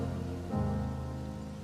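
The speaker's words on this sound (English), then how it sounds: "raining" Steady rain falling in the video game Elden Ring, a soft continuous patter under a low droning game ambience that swells slightly partway through.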